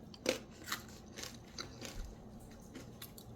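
A few sharp, crisp crunches of fried cassava (yuca) chips close up, spaced irregularly, with quieter crackly bites trailing off.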